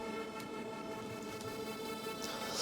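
A dark, sustained synth pad hums steadily on its own, its tone slowly shifting and swelling without any talking.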